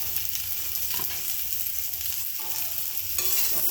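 Potatoes and green banana frying in an open pan, a steady close sizzle with light crackle and occasional stirring scrapes, with no talk.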